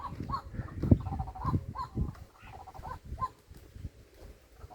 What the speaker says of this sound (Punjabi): ਚਿੜੀਆਂ ਦੀ ਚੀ